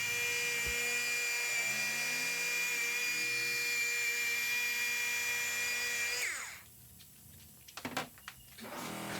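A car paint polisher runs on soft black paint with a loud, steady high whine that wavers slightly, then cuts off abruptly, followed by a few faint handling knocks and clicks.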